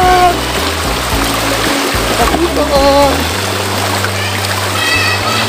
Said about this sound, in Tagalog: Ayan guys, tatawid kami ng ilog.